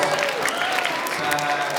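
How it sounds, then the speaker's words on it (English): An elementary school audience applauding a teacher, a loud, dense burst of clapping from a crowd of children and adults with faint cheering and some voices mixed in. "Give him a round of applause."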